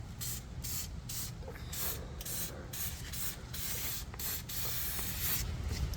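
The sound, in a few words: spraying protective undercoating on truck body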